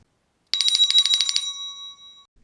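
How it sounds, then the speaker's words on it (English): A small bell rings in a quick run of rapid, tinkling strikes, then its clear tone lingers and fades away. "Rabbit was ringing a bell."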